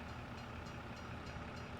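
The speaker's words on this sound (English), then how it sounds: "Train pass, raised up." A train passes a crossing in the video game Farming Simulator 25, producing a steady, dense rumble that fills the whole short stretch without a break and with no voices.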